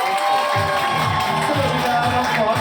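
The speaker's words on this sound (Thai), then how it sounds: "ขอเสียงปรบมือต้อนรับครับน้ องฟอสเลยครั บ" A crowd at a Thai store launch event cheers, screams and claps to welcome a young actor, loud continuous shrieking and whooping with dense applause underneath.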